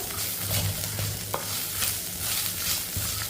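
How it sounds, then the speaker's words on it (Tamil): Close-up sizzling of ginger and green chillies in a hot pan with a spatula stirring and scraping, a steady crackle of frying throughout. "இதை நல்லா வதக்கி விட்ருவோம்"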